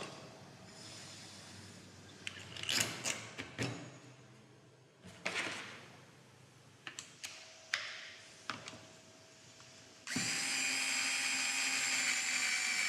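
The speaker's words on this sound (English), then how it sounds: "insert the metric screw to hold the kit in position" A metric screw being inserted and tightened on a CVT control kit, heard as scattered close clicks and knocks, followed by a steady whirring tool run at the end.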